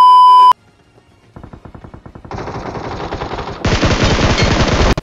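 M416 rifle fire in the mobile shooter BGMI, an opening beep then rapid bursts of automatic shots that grow louder and denser, ending in a sustained loud volley.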